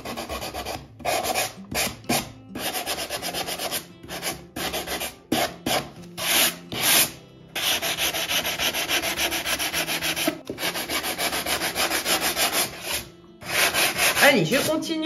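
Hand sanding on wood, a scratchy rubbing in bursts of strokes with brief pauses, fairly close and steady throughout.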